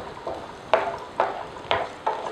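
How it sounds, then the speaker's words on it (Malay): Cinnamon bark, cardamom seeds and star anise sizzle frying in a wok, with four sharp scraping stirs at a steady rhythm, close up, and no talking. "kita biarkan mereka garing bersama-sama dalam kuali ni"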